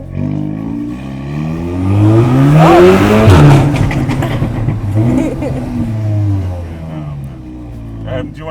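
A 550 bhp car revving hard on a London road, heard from inside, with rising and falling engine tones swelling to a loud peak mid-clip and easing off, while people talk over it.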